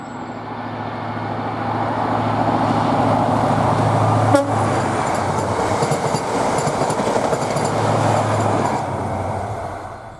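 ScotRail HST power cars 43028 and 43034 pull away from Aviemore with a steady, loud diesel roar, and a short horn toot sounds partway through before the engine note fades slightly.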